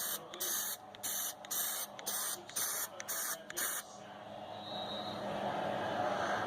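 Spray can applying Plasti Dip to a 2017 Jeep Compass emblem: a run of short, loud hissing bursts in quick succession, then a steady softer hiss continuing close by.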